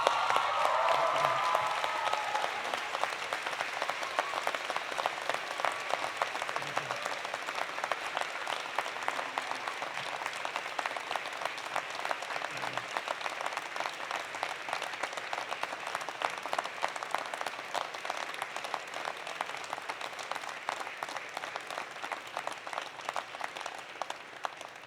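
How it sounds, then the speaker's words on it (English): Graduates at a spring University of Alberta business convocation stand and give their families a long, sustained round of applause from a large crowd, steady and dense throughout. "Stand up, give them a huge round of applause."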